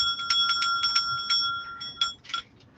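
A small bell hung as a pendulum rings in a rapid series of bright, clear strikes, then pauses and gives a couple more rings that fade out; it sounds close and alone, with no talk.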